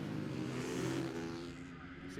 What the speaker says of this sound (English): You can hear how gentle they are on the revs through that off-road section